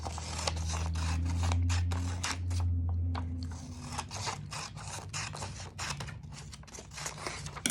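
Scissors snip through sheet music pages being trimmed down, a steady series of sharp cuts and paper rustles close by, with a low hum underneath.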